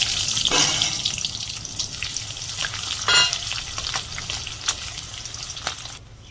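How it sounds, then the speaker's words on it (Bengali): Onions browning in a pan, fried after whole cumin, cinnamon and dried red chillies for a simple chicken curry, give a steady close sizzle with stirring scrapes and brief louder bursts throughout. "পেঁয়াজটা ভালো ভাজা হয়ে গেছে একদম ব্রাউন কালার চলেছে"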